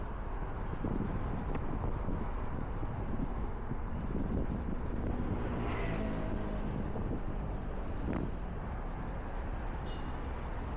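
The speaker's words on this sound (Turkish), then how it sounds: "Özellikle on kapağın tarafında çok fazla rüzgar var" Steady, heavy wind buffets the microphone while riding a Segway Max G3 electric scooter, a constant roar with a faint vehicle hum underneath.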